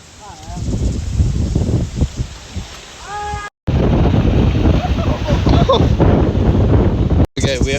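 Strong gusts at a cold, windy beach batter the microphone in a steady, loud roar with brief dropouts, and faint voices surface now and then beneath the rumble.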